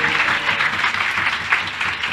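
An audience at a church service breaks into a brief burst of dense, sustained applause, loud and close, with a faint murmur of voices underneath.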